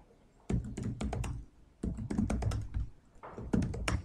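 Computer keyboard typed in quick bursts separated by short pauses while logging in as root over SSH to change the password in an operating systems lab; the keystrokes are close and crisp, with no talking.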